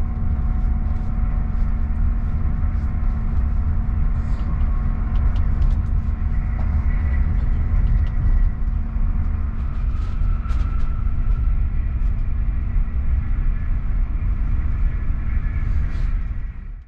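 Steady, loud rumbling roar of the Swedish SJ X2000 high-speed train moving at top speed, a constant low drone with faint clicks, fading out at the end.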